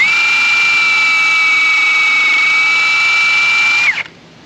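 A small hub polishing attachment on an air gun spins against the hub of a 2006-2013 Impala LTZ 3.6L, giving a loud, steady high-pitched whine that holds for about four seconds, then winds down and stops abruptly.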